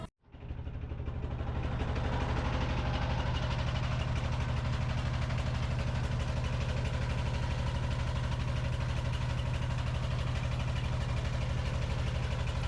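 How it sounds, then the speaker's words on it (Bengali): A trawler boat's engine drones steadily at close range on a lake outing, a loud, even low-pitched chugging that starts abruptly and holds unbroken, with no voices. "আমরা এখন বাইক রাইডের পর ট্রলার রাইড শুরু করে দিলাম"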